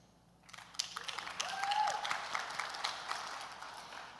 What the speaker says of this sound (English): It's okay if we clap now.